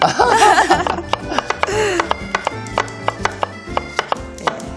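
Knife chopping on a cutting board: a steady series of sharp, evenly spaced knocks up close, with voices and a bit of laughter at the start.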